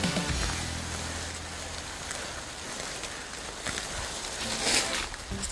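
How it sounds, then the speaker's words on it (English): Rain falls steadily on raw land being cleared, a constant wash of patter with scattered louder drops, close and fairly loud throughout. "it's raining right now"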